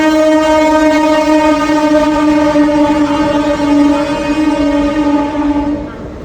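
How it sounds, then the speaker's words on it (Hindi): A train runs through Jalgaon station without stopping, close and loud, its horn holding a long steady sustained blast for about six seconds before easing off at the very end. "उस ओर से कोई ट्रेन जलगांव को स्किप भी कर रही है।"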